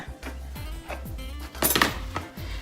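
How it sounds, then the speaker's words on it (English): A crock pot is scooted across a kitchen counter, giving short scraping and clinking bumps of ceramic and glass, a louder cluster midway, close by with no voices. "let me scoot my crock pot over a little bit"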